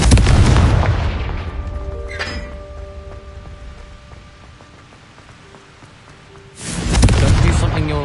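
A Confringo fire spell in Hogwarts Legacy goes off with a loud, booming blast at the start that fades into a quieter magical shimmer and tonal hum, then a second heavy burst follows near the end.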